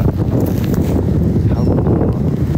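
Strong wind on a cloudy, gray beach buffets the microphone in a loud, continuous low roar with gusty swells throughout.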